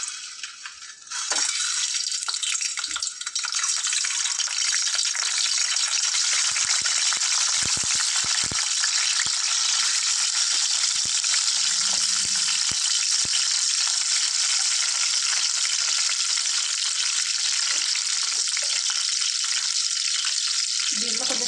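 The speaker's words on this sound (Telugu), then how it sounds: "దీన్ని ఆయిల్లో వేసి ఫ్రై చేసుకుంటాను" Peeled boiled eggs fry in hot oil with a steady, loud broadband sizzle that starts after a brief clatter and holds throughout, with occasional stirring rattles under it.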